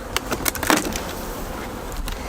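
A few sharp cracks and snaps at the start, like sticky resin pulling apart in a hive, then a quieter hum.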